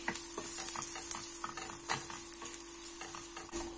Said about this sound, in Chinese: 然后放点辣椒粉，这个是牛至，然后薄荷，稍微炒香一点。 然后再把西红柿放进去